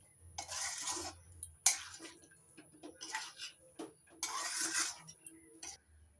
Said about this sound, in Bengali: নাড়াচাড়া করে নামিয়ে নেব।